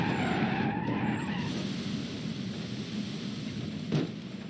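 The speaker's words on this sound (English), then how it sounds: "Now let's take a look at the car crash, but real time speed." A car skids and crashes at high speed in BeamNG Drive, a long, rough tire-and-road roar that slowly fades, ending in a brief sharp impact near the end.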